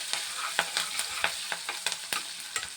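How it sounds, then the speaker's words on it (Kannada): Onion and curry leaves frying in oil for a brinjal palya, with a constant sizzle under repeated crisp stirring scrapes of a spoon in the pan, close-up and without any talking. "ಎರಡು ಸ್ವಲ್ಪ ಫ್ರೈ ಆಗಲಿ."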